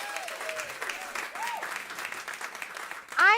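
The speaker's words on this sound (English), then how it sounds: "Give them another huge round of applause." An audience at a Climate Week event with Broadway performers applauds in a dense, continuous wash of clapping, with a voice briefly heard over it near the end.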